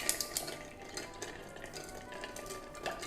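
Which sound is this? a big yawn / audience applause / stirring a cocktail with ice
stirring a cocktail with ice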